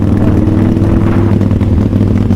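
A Harley-Davidson Fat Boy motorcycle runs close by, its exhaust giving a loud, steady, deep throbbing rumble with no clear separate pops standing out.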